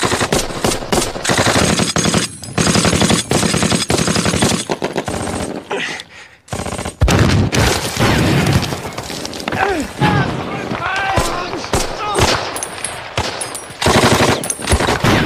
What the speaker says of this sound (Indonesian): Mereka mulai menembaki tentara Jerman yang mengoperasikan meriam pertama.